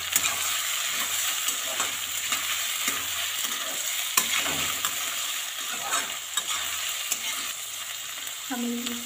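Onions fry and sizzle in hot oil for chicken curry, a steady loud crackle with stirring scrapes throughout and a short clink near the end.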